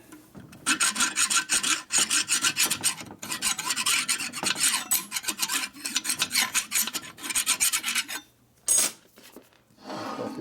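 A hand file rasps burrs off a part from a 1946 Harley-Davidson 84ci stroker knucklehead engine under rebuild. Loud, close, rhythmic strokes come in quick runs with brief pauses and end in a couple of separate final passes. No one speaks.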